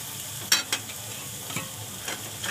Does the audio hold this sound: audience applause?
no